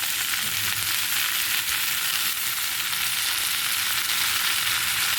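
Water spinach (kolmi shak) frying in a pan with onion and green chilli makes a dense, continuous sizzle at close range, steady and loud throughout with no talking.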